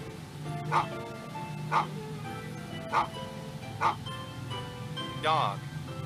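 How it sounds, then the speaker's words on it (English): A dog gives five separate barks spaced about a second apart, each short and fairly clear, over a faint background. "Dog. Dog."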